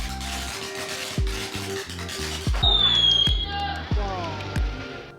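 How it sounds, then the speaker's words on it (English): Fireworks bursting in a remote village near the China–Myanmar border on Chinese New Year's Eve after sundown, a run of loud, close booms and crackling blasts, some with rising whistles, over background crowd noise. "The sun just went down, and now the explosions begin."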